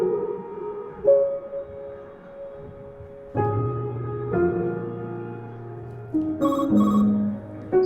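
A phone ringtone plays a repeating melodic tune, steady and fairly clear, with no voices over it.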